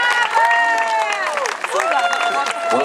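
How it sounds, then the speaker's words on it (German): Audience applause and cheering for a performer on stage, loud and continuous with scattered whistles and shouts over the clapping. "dein Applaus"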